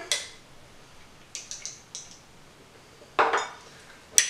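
Homemade laundry soap with drops of essential oil being stirred in a container, a handful of light clinks and scrapes of a utensil against the sides, spaced out over a quiet background.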